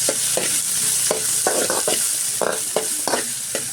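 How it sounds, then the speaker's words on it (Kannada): Onions frying in a pan for Mangalore-style kadbu uppukari, with a steady loud sizzle broken by repeated scraping stirs of a spoon against the pan, no voices. "ಈರುಳ್ಳಿ ಹಾಕೊಂಡು ಚೆನ್ನಾಗಿ ಫ್ರೈ ಮಾಡ್ಕೊಳ್ಳೋಣ."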